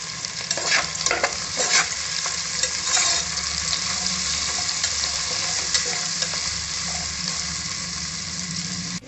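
Onions frying in oil until golden for egg biryani, a continuous hiss of sizzling with scraping and clinking from a spoon stirring the pan, close and steady throughout.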